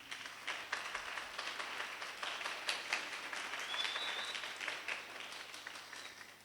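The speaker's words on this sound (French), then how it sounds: "Applaudissez pour lui." An audience at a French spelling and elocution contest for two classes claps for a teacher and moderator, a soft, distant patter of applause lasting several seconds and fading out gently.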